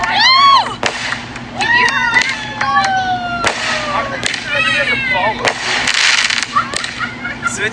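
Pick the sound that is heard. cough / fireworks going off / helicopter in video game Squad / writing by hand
fireworks going off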